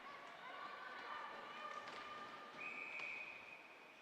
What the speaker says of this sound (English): Get a whistle with 15:44 left in the third period.